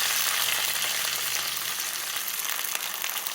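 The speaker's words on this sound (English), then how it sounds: "It will sizzle a bit, don't worry." Steady, continuous sizzling as half a cup of water hits a hot pan of browning chickpea curry, a loud hiss of liquid hitting heat with no voices present.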